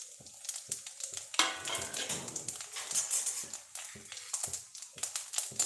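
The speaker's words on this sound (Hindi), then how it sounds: "अच्छे से चम्मच चला लेते हैं" A spoon stirs whole spices in a pot for a methi matar malai pulao: repeated scraping clinks and sharp metallic taps against the pot over a light sizzle, close and irregular, with no talking.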